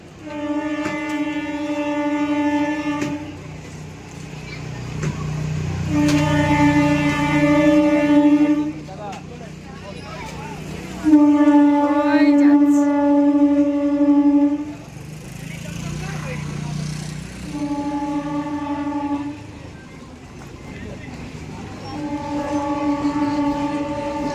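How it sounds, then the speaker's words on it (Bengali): A train passes close by in the evening, its horn sounding in several long, loud, tonal blasts over a steady rumble of rolling wagons. "আবার রেল আসছে, যাচ্ছে।"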